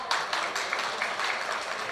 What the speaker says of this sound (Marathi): ताईंसाठी जरा जोरात टाळ्या वाजवा